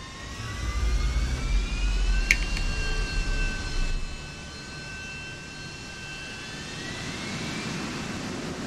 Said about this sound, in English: I can hear like the vibrations of the helicopter